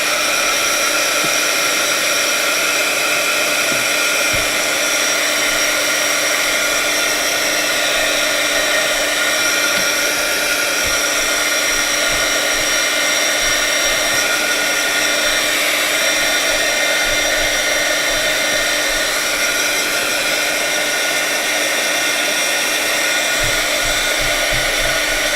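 A heat tool dries watercolor pencil ink on an embossed card, blowing with a loud, steady whir that holds unbroken throughout.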